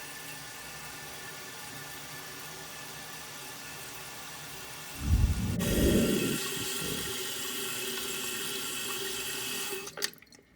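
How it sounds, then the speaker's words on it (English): A toilet tank refills with water after a flush, a steady hiss and rush that swells with a brief gurgling surge midway, then continues evenly until it cuts off near the end. "Now we're just going to watch and see the height of the water as the tank fills."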